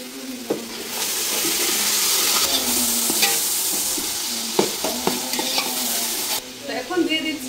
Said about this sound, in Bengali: এখন এর মধ্যে দিয়ে দিব আদা রসুন।